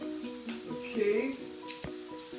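Cheeseburger taco meat seasoned with black pepper sizzles as it browns in a pan, a steady close frying hiss with some stirring, while people talk over it.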